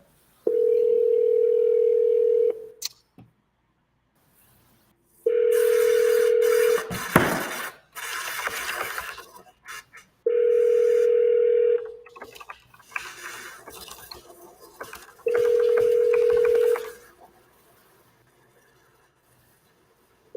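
Four bursts of a steady dial tone, each about two seconds, with bursts of rapid touch-tone dialing and clicks in the gaps between them, a cold-call line at moderate level with no talk.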